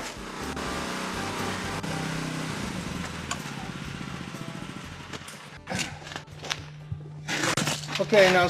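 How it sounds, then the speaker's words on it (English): A Genesis hydraulic rescue cutter works through a car door hinge: a steady power-unit hum with groaning, creaking metal builds for several seconds before a burst of sharp cracks and snaps near the end. "All Genesis cutters are designed to cut hinges."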